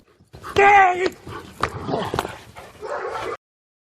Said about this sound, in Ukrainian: Поліцейський собака за лічені секунди виявляє небезпеку.